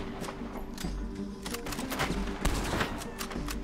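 Gunfire rings out in Red Dead Redemption II, with repeated sharp shots and rapid bursts, close and loud against a rumbling background, and no talking.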